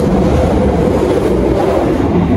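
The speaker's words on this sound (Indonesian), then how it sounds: "kereta api Jakatingkir baru saja diberangkatkan dari stasiun Wates ya" The Jaka Tingkir economy-class passenger train departs Wates station, a dense, continuous low rumble and roar of rolling rail cars, loud and close with no distinct pauses.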